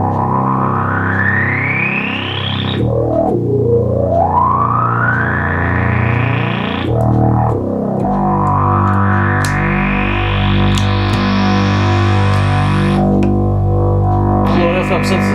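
A 1972 Minimoog synthesizer with its oscillators combined, producing a rich buzzy tone whose pitch sweeps upward repeatedly in long glides, loud and steady over about fifteen seconds.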